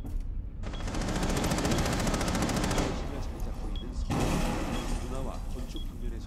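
Rapid automatic gunfire from Rainbow Six Siege rattles in dense bursts, breaking off briefly before resuming, while a voice talks over the shooting.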